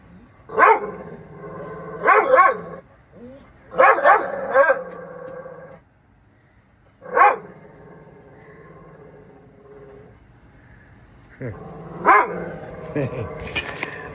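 Two dogs bark and yip in clustered bursts while playing indoors, loud and close with pauses between volleys, a voice talking softly among them.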